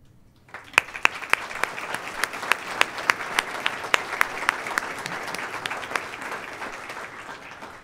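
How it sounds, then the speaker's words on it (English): Audience clapping at a university alumni awards ceremony, a sustained round of applause with sharp individual claps standing out in a moderately sized indoor crowd, swelling in quickly and tapering slightly. "please stand and be recognized"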